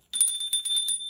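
A short bright bell-style notification chime rings in quick repeated strikes, clean and alone, lasting about a second.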